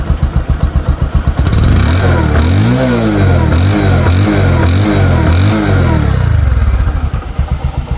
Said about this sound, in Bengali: বাইকটা কিন্তু স্টার্ট করেছি একদম